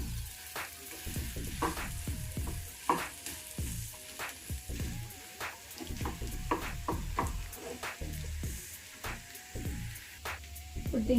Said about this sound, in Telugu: ఇలా వేసుకున్న దాన్ని మొత్తం మంచిగా నీట్గా కలిపేసుకొని ఒక 2-3 నిమిషాలు దీన్ని వేయించుకోవాలి.